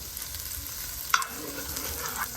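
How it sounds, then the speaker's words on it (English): Shallots sizzling and frying in melted butter in a pan, a soft steady crackle with a brief clink of a stirring utensil partway through. "melt 2 tablespoons of butter and drop some shallots in there"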